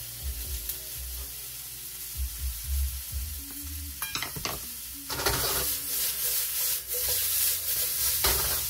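Shrimp and vegetable dumplings sizzle and fry in a stir-fry pan with ginger and crushed red pepper, a loud steady hiss broken by scraping stirs and clatter, with no voices.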